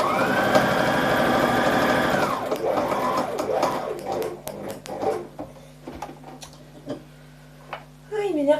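A sewing machine stitches fabric with red thread, running steadily and loud for about two seconds before stopping, followed by quieter handling clicks and rustles as a person speaks.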